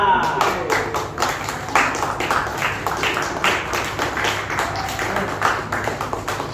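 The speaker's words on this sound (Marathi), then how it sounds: "टाळ्या" A small group claps in a steady patter behind the scenes of a Marathi TV serial set during a Makar Sankranti celebration, with voices mixed in beneath the clapping.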